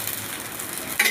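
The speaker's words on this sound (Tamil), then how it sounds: "தோசை ஊற்ற போகிறோம். முருங்கை தோசை." Drumstick-leaf dosa batter sizzles on a hot pan with a continuous close crackle. A brief metallic scrape sounds near the end.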